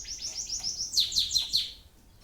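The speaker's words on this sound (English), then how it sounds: "peaceful, just with that clock ticking and the bird" A songbird chirps in a quick series of bright, high tweets, rising to a louder burst of calls before trailing off into quiet; no clock ticking stands out.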